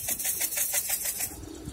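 Pigeons flutter and coo close by in a neighbourhood setting, soft pulsing wingbeats and throaty sounds repeating rapidly over a brief stretch, with no voices.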